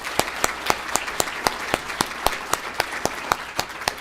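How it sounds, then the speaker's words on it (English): Applause from a conference audience at a statewide symposium general session: a steady patter of clapping hands throughout, moderately loud and somewhat distant, with sharp individual claps standing out above the crowd. "give all of them a round of applause"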